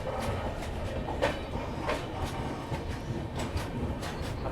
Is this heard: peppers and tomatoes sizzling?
no